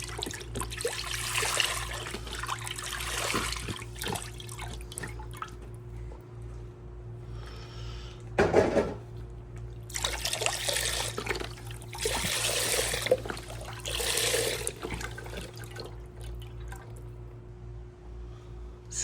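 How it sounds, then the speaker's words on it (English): Beef broth, 64 ounces, poured into a crock pot for French onion soup: several bursts of splashing liquid with short pauses between them, heard fairly close over a steady low background hum. "We're gonna put in 64 ounces of beef broth."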